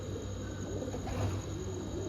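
Soft, low pigeon cooing rises and falls beneath a steady hum of background noise, fairly faint and muffled.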